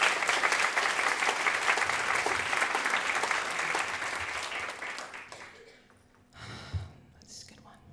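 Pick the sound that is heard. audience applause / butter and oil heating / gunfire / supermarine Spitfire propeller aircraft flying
audience applause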